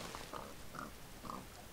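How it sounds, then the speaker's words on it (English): A pig oinking in the Minecraft video game, a few short faint grunts spaced apart against a low background hiss. "Come here, pig."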